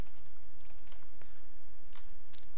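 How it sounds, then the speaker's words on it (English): Computer keyboard typing at a desk, irregular bursts of crisp key clicks with short pauses between runs, close and clear with no talking. "my typing is getting worse."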